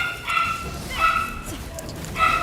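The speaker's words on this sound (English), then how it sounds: "the dog that's been quiet all day starts barking when I stream" A dog at home gives three short, high barks or yips at moderate distance, spaced about half a second apart.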